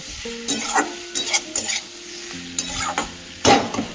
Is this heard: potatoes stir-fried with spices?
yes